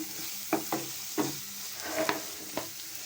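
Prawns coated with salt and chilli powder fry in a pan with a low continuous sizzle, punctuated by several irregular scraping stirs, close and alone without speech.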